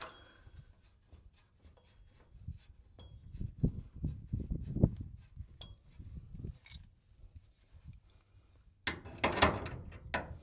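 A nut is threaded back on with a ratchet during work on a NASCAR project car, heard as quiet, rapid clicking runs and metallic ticks, close and faint, ending in a brief louder clatter of tools.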